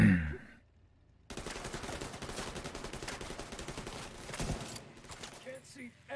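Rapid bursts of video game gunfire from The Division 2 crackle in a dense, steady stream after a brief quiet gap, with one sharper shot standing out before the firing thins near the end.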